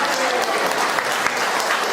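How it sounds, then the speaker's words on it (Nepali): A church congregation clapping together, a dense, even wash of many hands, loud and close, steady throughout with no break. "ताली बजाउन हामी"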